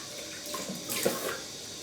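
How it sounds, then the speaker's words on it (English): Hot tap water runs into a bathroom sink during a shave, a steady broadband rush that swells briefly in the middle, close and alone with no talk. "hot water, hold on."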